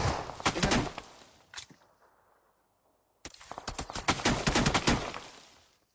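Rapid bursts of video game gunfire, loud and close, a flurry of shots followed by near silence, then another sustained volley of repeated shots.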